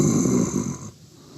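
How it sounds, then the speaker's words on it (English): Breathing as a sound effect in a radio play, a heavy, close breath heard alone that fades out about two-thirds of the way through. "I heard breathing close to my face."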